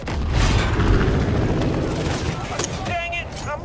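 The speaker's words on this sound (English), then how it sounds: "I'm gonna drop a bomb on these guys!" A bomb dropped from a plane explodes in Far Cry 5, a loud, deep rumbling blast that fills the mix and slowly fades beneath engine drone, with a voice chirping in near the end.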